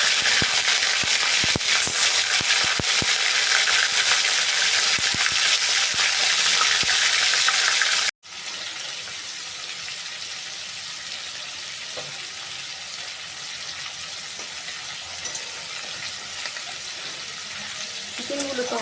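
Yogurt-marinated chicken pieces dropped into hot refined oil in a wok, a loud, dense frying roar that settles into a steadier, quieter sizzle partway through.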